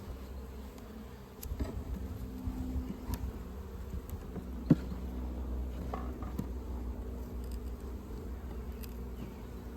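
Honeybees buzzing inside an opened horizontal hive during an inspection, a soft steady drone close by with occasional faint knocks and clinks from handling frames.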